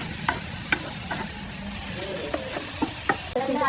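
Butter, onion, tomato and chilli fry in a pan with a steady low sizzle, punctuated by light, irregular clicks and taps of a utensil stirring against the pan.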